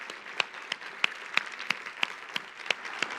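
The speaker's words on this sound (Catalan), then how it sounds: "Un aplaudiment, sisplau." Audience at a rural women's congress in a full hall claps sparsely, with a handful of distinct, evenly spaced hand claps standing out over a faint background murmur.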